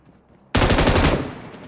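Sustained M249 light machine gun fire in PUBG Mobile bursts in abruptly after a quiet moment, a loud dense rattle of rapid shots that continues steadily, with no talk over it.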